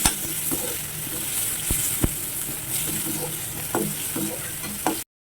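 Onions, dry chillies, whole cumin and five-spice seeds fry in hot oil, making a continuous close sizzle broken by occasional sharp clicks and scrapes of stirring, with no talking.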